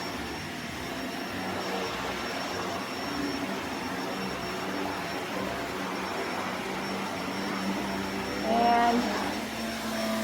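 A Shark NV752 Rotator Powered Lift-Away upright vacuum cleaner runs with a continuous, even roar and rushing airflow that swells slightly near the end, and a voice speaks briefly over it.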